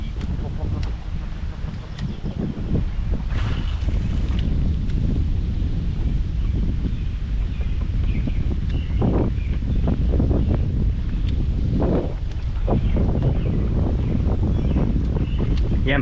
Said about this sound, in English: this wind is serious